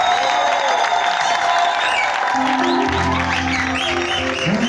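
A church congregation applauds at a bishop's consecration service with dense, steady clapping throughout; sustained musical tones join the applause about halfway through.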